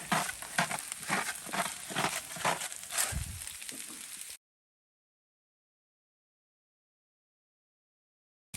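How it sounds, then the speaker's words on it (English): Potatoes frying on a Blackstone griddle for breakfast give a steady hiss and crackle of sizzling, moderately loud and alone, for about four seconds before cutting to silence. "All right, so potatoes are cooking."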